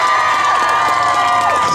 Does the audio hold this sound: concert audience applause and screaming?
yes